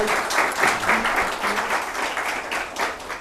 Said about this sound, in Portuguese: Vamos aplaudir a professora.